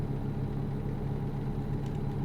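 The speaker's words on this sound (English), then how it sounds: "Come on, engine, you can do it." A truck engine in American Truck Simulator rumbling at idle, a steady low drone that holds evenly throughout, close and moderately loud, with no talk.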